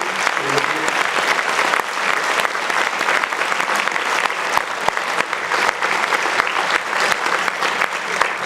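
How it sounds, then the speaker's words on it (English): Loud, sustained audience applause at a school alumni association awards ceremony, dense and even clapping close by that fills the whole stretch with a few sharper claps, with no talking heard over it. "So if we could have one more round of applause."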